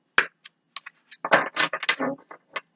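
A Tarot of Dreams deck is shuffled by hand at a tarot reading, a string of short, crisp card riffles and taps in quick irregular bursts, close and clear with no talk.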